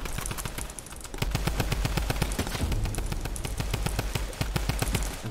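Rapid bursts of automatic gunfire crackle nonstop in a Fortnite Battle Royale match, with dense, fast shots close by and booming low thuds underneath. No talking.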